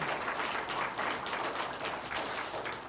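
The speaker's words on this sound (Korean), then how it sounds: "우리 하나님께 감사의 박수 올립시다" A church congregation applauding together during a Sunday afternoon worship service, a steady dense wash of many hands clapping at moderate loudness for the whole stretch, with no talk over it.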